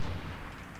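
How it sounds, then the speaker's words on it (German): A grenade blast in the shooter game Medal of Honor Warfighter: a heavy, booming explosion with deep rumbling low end that fills the short moment and sustains without a break. "Ich schmeiß erstmal eine Granate."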